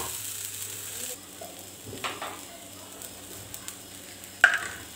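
Tomatoes resting in a little oil on a hot griddle (tava) with the gas turned off, for Khandeshi shev bhaji: a soft, steady sizzle with a few light clinks and scrapes, close by and with no talking.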